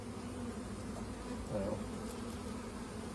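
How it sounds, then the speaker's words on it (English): Honey bees buzz on a hive frame in a steady, close, low drone that continues throughout, with a brief spoken word heard over it. "You see the different colors of bees in here."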